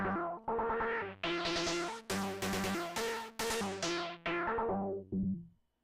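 A Manus synthesizer voice plays a sequenced pitch pattern of bright, reedy notes in a steady stepped rhythm, mostly sustained with short gaps, ending on a fading final note, alone without talk.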